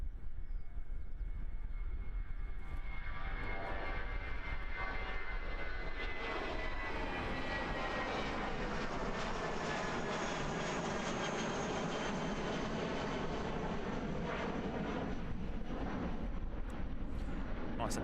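A Jetstar jet airliner takes off from Christchurch Airport, a loud broad roar that builds and then slowly fades as it climbs away, heard for the full length without voices.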